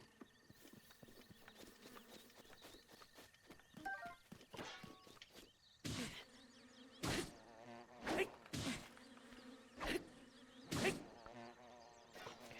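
Bees buzzing in Breath of the Wild, a soft, high insect drone around a camp, mixed with scattered game effects and then a run of loud, evenly spaced thumps like footsteps or strikes.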